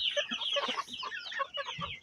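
Three-month-old incubator-hatched roosters and hens cluck together in a busy, overlapping flock, with quick repeated calls close by and no talking.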